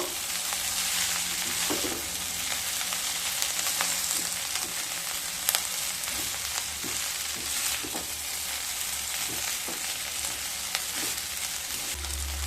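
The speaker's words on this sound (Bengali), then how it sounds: "এবার খুব ভালো করে মিশিয়ে নেবো" Vegetarian chowmein noodles are tossed and stir-fried in a hot pan, a continuous close sizzle with rhythmic scraping and clinks of the utensil mixing them, no voices present.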